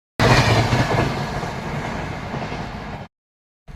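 A train rushes past at close range with a loud, steady roar and clickety-clack of wheels near Surat, cutting off abruptly after about three seconds.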